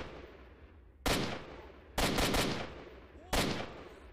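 A scoped assault rifle fires in S.T.A.L.K.E.R.: Shadow of Chernobyl, with three sharp, loud reports, one of them a quick burst of several rapid shots, each ringing out briefly over a quiet background.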